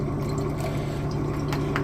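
Distilled water pours steadily into a container for a home precious-metal refining setup, a continuous close trickle with no talk.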